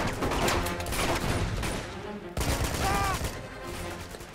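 Turret gunfire in Uncharted 2 rattles in rapid, loud bursts of shots, dense and continuous with a brief break midway, the firing close and harsh.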